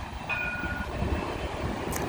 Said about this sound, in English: Here's the train going south to Mount Herzl.